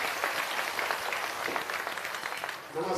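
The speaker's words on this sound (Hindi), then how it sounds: "एक बार जोरदार ताली बजाइए आदरणीय प्रशांत जी" Crowd applause at an outdoor political rally for Prashant Kishor on a sports ground in Murliganj, a broad wash of clapping from many people, fairly distant and steady, tailing off at the end.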